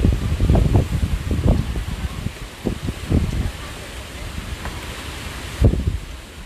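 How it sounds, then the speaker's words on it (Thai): Strong wind at the seaside in Bang Pu, Samut Prakan, buffeting the microphone in repeated low gusts and rumbling bursts over a steady breezy backdrop, loud and close throughout. "ลมแรงมากคุณผู้ชมเพราะว่านี่อยู่ติดชายทะเลเลย"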